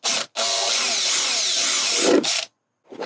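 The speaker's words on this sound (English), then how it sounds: "We're just going to drill holes all through this thing. Except for one side, we're going to use a unibit." A power drill with a step bit boring through a plastic cooler filter housing: a loud, close, continuous whine of roughly two seconds, then a brief stop before the drill restarts.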